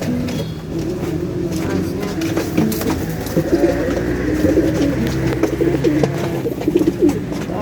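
Pigeons coo softly amid a busy, steady background of chatter and ambient noise, the low burbling calls repeating throughout.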